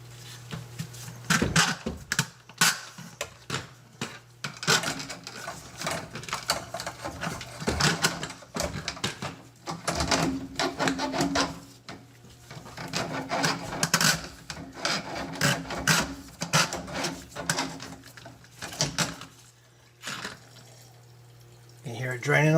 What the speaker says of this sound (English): I'm going to get my little drain machine and we'll get this opened up here